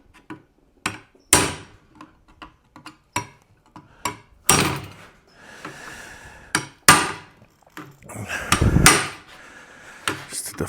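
A hammer drives a chisel into the louver corners of a 1937 Zephyr's metal panel: sharp, close strikes in irregular bursts, some quick doubles, with brief scraping between blows.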